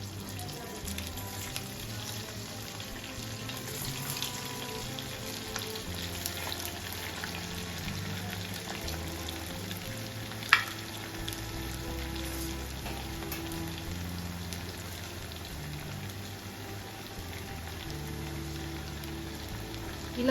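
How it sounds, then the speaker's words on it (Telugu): Leftover-rice vadas deep frying in hot oil make a steady, soft bubbling sizzle that continues throughout, with a single sharper pop midway and no talking. "వీటిని ఆయిల్లో డీప్ ఫ్రై చేసుకుందాం."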